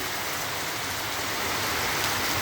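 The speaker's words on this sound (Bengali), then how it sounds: "এত জোরে বৃষ্টি হচ্ছে" Heavy rain pours down in a dense, unbroken hiss, loud and close, heard from a rooftop, with no voices.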